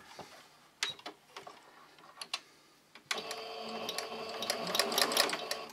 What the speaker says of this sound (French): Ok, maintenant je vais venir coudre ces deux-là ensemble